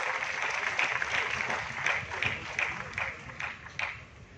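Audience clapping at a police day ceremony, a soft, fairly distant patter of applause with a few sharper claps standing out, steady for several seconds and quietly fading.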